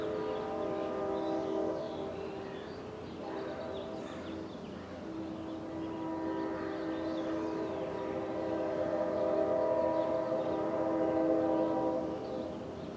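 Train horn from a track about two miles away, sustained layered tones sounding several long blasts at moderate volume over steady outdoor rumble, no talking.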